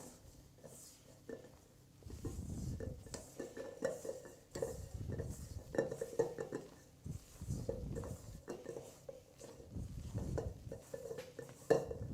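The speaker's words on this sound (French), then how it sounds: "Mélangez délicatement à l'aide d'une maryse des parois du bol vers l'intérieur." A spatula scrapes and folds a mixture into whipped egg whites in a bowl while making buttercream, giving soft repeated scraping and light clinking strokes at close range, with no talking.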